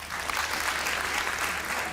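A studio audience claps for Ayman's poetry on a comedy talk show, a dense, steady applause that stays loud for the whole two seconds.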